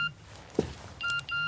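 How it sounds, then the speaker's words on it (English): A mobile phone beeps for an incoming text message: two short, high electronic beeps in quick succession, fairly clear against quiet background noise. "What is that high-pitched beeping noise?"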